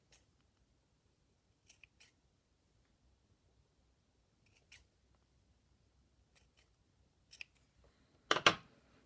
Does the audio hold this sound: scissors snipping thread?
yes